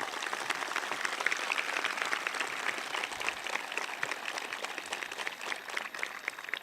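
Steady, dense applause from a large audience at a university graduation ceremony, honoring the graduating women, sustained throughout at moderate distance with no talk.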